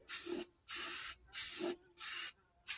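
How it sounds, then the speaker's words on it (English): Four short bursts of hissing spray from an aerosol can onto a truck frame, evenly spaced with brief pauses, and a fifth burst beginning at the end. "we're just going to spray this on here"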